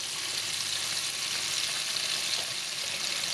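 Fish frying in a hot pan on a nine-setting stove, heat turned up after the pieces go in: a steady, close, dense sizzle with fine crackling, continuous and alone throughout.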